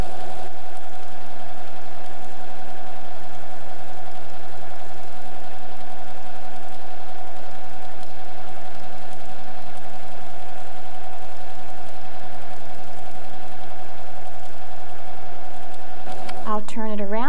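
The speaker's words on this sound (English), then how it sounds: "line up the red center line on your foot with the header of the lace, and then begin to stitch." A 1990s domestic sewing machine stitches lace with a steady close mechanical hum and whir that runs evenly throughout, ending with a brief voice at the very end.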